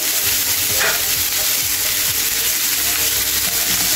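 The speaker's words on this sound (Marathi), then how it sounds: "आता ही मेथी जी आहे ती आपल्याला हाय फ्लेमवरती म्हणजे मोठ्या गॅसवरतीच परतून घ्यायची आहे." Finely chopped fenugreek leaves sautéing over a high gas flame, producing a loud, steady frying hiss with light stirring underneath and no talking.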